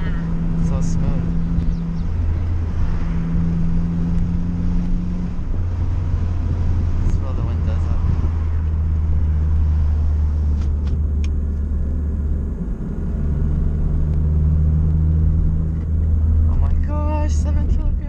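Honda Fit with coilovers, Swiss springs and roll center ball joints cruising a mountain road, its steady engine drone and road rumble loud and continuous throughout, with people talking over it inside the cabin.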